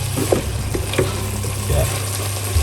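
Food cooking in a pan being stirred, with a low steady sizzle and a few scraping stir sounds close by.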